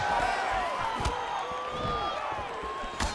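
Crowd applause and cheering at a UFC bout between Tony Ferguson and Dustin Poirier, a sustained arena roar with scattered sharp claps and a few louder bursts.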